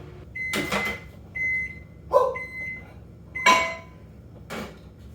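A microwave oven heating a one-bowl omelette hums steadily while a series of short electronic beeps and a door clunk sound close by, spaced across the clip.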